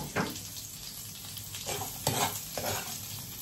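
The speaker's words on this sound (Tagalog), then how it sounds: "Pag nagigisa ko" Mussels, onions and vegetables for adobo are sautéed in a pan, a low steady sizzle broken by a few soft scraping strokes of a stirring spoon, close and fairly quiet.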